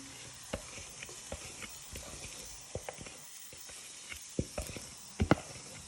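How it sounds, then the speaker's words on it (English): Spring onions, ginger and garlic fry in a wok with a quiet continuous sizzle, broken by scattered knocks and scrapes that grow louder toward the end. "you want to start now frying your vegetables"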